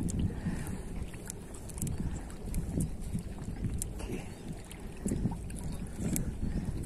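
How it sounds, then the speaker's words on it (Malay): Steady wind gusting across open water while fishing for mullet with a 360 fixed-line pole, with a continuous low rumble and buffeting that carries through the whole stretch, close and moderately loud. "Ini angin udah bertiup nih, mudah-mudahan tidak menjadi halangan ya."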